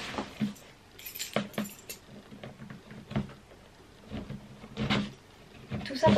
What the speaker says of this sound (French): Une clé.